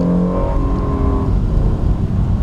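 Honda NSX hybrid sports car with a 3.5-litre twin-turbo V6 and electric motors, a loud close engine drone whose pitch slides down as it eases off.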